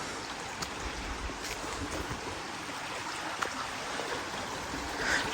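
A river flows past a countryside homestead as a steady broadband rush of water, fairly faint and continuous, with no voices.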